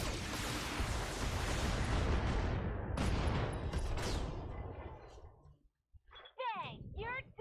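Precision artillery strike in the BattleTech video game: a loud, dense rumble of explosions with a sharper blast near the middle that fades to near silence, after which a brief electronic chirping effect sounds.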